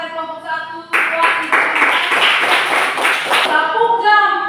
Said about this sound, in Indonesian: Ayo mari kita tepuk tangan untuk sekali lagi kita tepuk tangan untuk semua kelompok